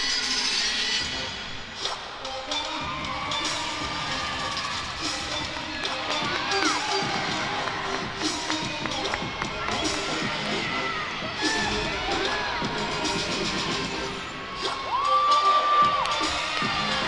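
Crowd cheering and whooping at a college gymnastics meet during a floor routine, a steady loud roar with shouts rising and swelling toward the end.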